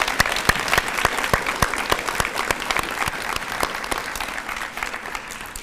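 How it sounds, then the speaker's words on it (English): Audience applause at a senior volunteer hall of fame ceremony for the nominees, steady sharp claps filling the hall, fairly close and unbroken, with no talk over it. "Let's give all of our nominees another round of applause."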